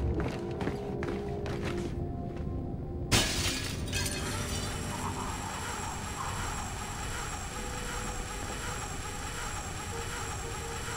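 A glass window shatters with a sharp, bright crash in the stealth video game Splinter Cell: Blacklist, then a dense, steady wash of game ambience and action noise carries on underneath.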